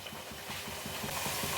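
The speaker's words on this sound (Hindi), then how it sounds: "तो अब हम पहले इतनी मठरियों को पहले फ्राई कर लेंगे।" Mathri pastries made from moong dal and wheat flour fry in hot oil, giving a steady, close, even hiss and fizz with soft bubbling pulses and no voices.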